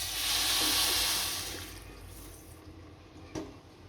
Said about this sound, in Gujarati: હવે આપણે આની અંદર ખાંડ ગુંડ એટલું પાણી નાખશું